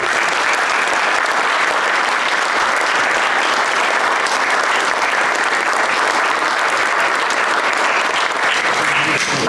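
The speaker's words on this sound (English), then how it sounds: "let's give our candidates a round of applause" A large audience at a League of Women Voters candidate forum claps steadily for the candidates, a dense and loud wash of applause that holds for the full stretch without a break.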